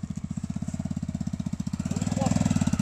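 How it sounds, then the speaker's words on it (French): Off-road vehicle engine running in fast, steady pulses, the rhythmic throb climbing slightly in pitch and loudness toward the end as it revs higher, with faint background noise. "il monte dans les tours"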